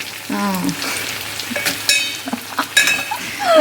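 Eggplant pieces for a masala curry fry in a pan with a steady close sizzle, stirred and turned now and then with light utensil scrapes; a voice briefly speaks over it.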